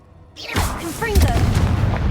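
A Confringo blasting spell explodes in the Hogwarts Legacy video game: after a brief quiet, a loud boom erupts and rumbles on under swooshing effects and a voice shouting a spell name.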